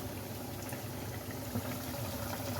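A pot of chicken potchero with chicken cubes and tomato sauce bubbles at a steady, even boil, a continuous close-up burble with no voices.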